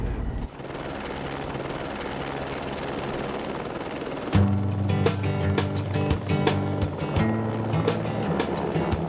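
A helicopter engine drones steadily in Antarctica, then rotor thumping grows louder and closer with a rhythmic chop, no talking.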